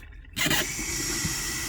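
Hot water gushes steadily from the tap into a double-sided kitchen sink in a 20 ft Keystone Springdale RV, starting abruptly after a brief quiet moment and continuing as a close, even hiss and splash.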